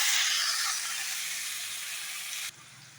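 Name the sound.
tomatoes added to frying onions in a pan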